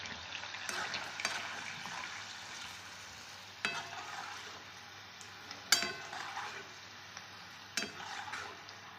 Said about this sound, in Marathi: शेंगदाणे पण आता छान फुटले. आपण आता शेंगदाणे पण काढून घेणार. छान तळले